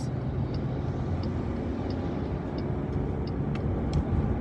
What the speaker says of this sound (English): So I'm pretty sure the garbage truck is, like, picking up the garbages.